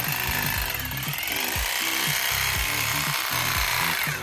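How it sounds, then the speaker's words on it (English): A rotary hammer drill with a chisel bit hammers at a stripped rotor bolt in short, rapid bursts, a loud rattling chatter that stops and restarts several times, close up, with no talking. "I used a rotary hammer drill with a chisel bit instead"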